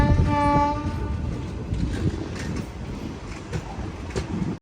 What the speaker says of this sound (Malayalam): ട്രെയിൻ അങ്ങനെ മയിലാടുതുറൈ റെയിൽവേ സ്റ്റേഷനിലേക്ക് എത്തിക്കൊണ്ടിരിക്കുകയാണ്.